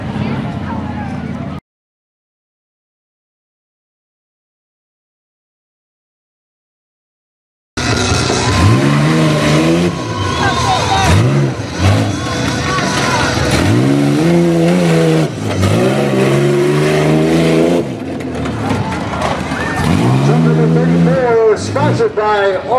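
Tuff truck racing at a Labor Day festival: after a gap, a truck engine roars and revs hard in repeated rising and falling surges, loud and close, with an announcer talking over it.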